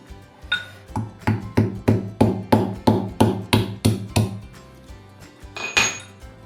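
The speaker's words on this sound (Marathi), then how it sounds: "आता मी एक खलबत्ता घेतलेला आहे आणि या खलबत्त्यामध्ये आपण हे ठेचून घेऊया" A pestle thumps shevla in a mortar, about a dozen steady, evenly spaced metallic-ringing knocks, then a pause and one last strike, close and clear with no voices.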